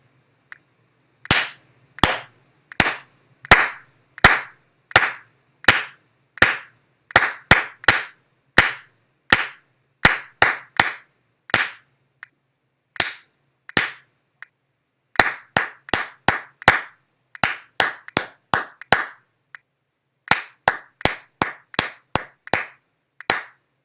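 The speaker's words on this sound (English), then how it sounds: "then you can clap through the exercise and have SmartMusic give you assessment." Hand clapping through a rhythm exercise in a music practice program's clap percussion mode, sharp single claps in steady patterns with short pauses between groups, close and alone with no talk.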